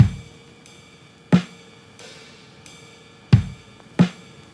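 A finished slowcore drum loop programmed in FL Studio: sparse kick and snare hits, a washy ride cymbal and a basic open hi-hat, with the cymbals ringing and decaying between the drum strikes, no voices.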